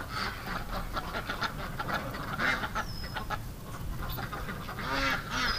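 A duck and a goose that are a pair, among a crowd of over a thousand ducks, call together in quacks and honks. The calls are steady and overlapping, fairly close, over busy barnyard background noise.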